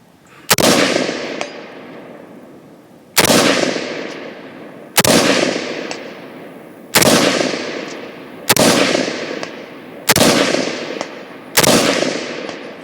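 A KAC SR-15 MOD2 rifle fires seven sharp, loud shots at irregular intervals of one to three seconds, each crack followed by a long echoing decay in an open outdoor setting.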